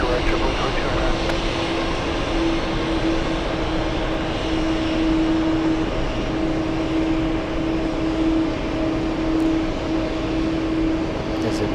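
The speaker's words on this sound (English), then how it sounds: "Sounds like a JetBlue." A JetBlue jet airliner moving at JFK airport gives off a steady, moderately loud engine drone with a sustained whine, continuous throughout with no breaks.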